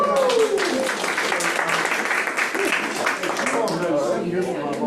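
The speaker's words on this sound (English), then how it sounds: "Give a hand clap." Applause from a team meeting audience, many hands clapping densely and steadily throughout, with voices mixed into the crowd noise.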